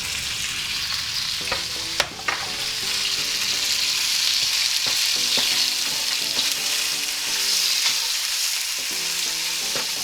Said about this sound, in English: Fry until sealed.